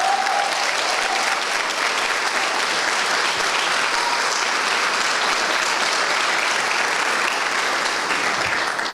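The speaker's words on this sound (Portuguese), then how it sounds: "Quantos podem aplaudir o Senhor?" Church congregation applauding the Lord during an apostolic worship service: loud, continuous crowd clapping filling the room evenly from start to finish, with a few voices faintly mixed in.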